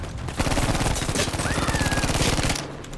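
Rapid automatic gunfire in a shooter video game, a loud steady stream of closely spaced shots lasting a couple of seconds before cutting off.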